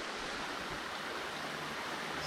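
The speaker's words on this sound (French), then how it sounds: "Belle petite cascade." A small waterfall trickles and splashes steadily outdoors, a soft, even rush of water with no voices over it.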